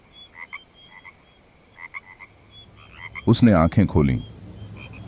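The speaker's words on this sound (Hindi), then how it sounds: "बाहर से मेंढकों की आवाज आ रही है" Distant frogs croak in short repeated calls, then a voice speaks briefly close by over them.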